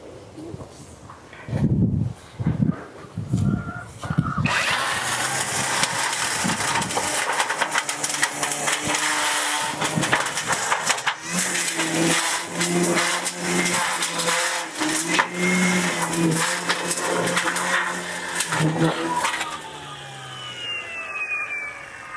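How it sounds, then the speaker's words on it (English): Small electric DeWalt weed eater shredding leaves inside a metal trash can: a few short bursts, then a sustained grinding, rattling whir with crunching debris and uneven surges, fairly close. "we're going to use the weed eater, this little electric DeWalt weed eater, to shred them up"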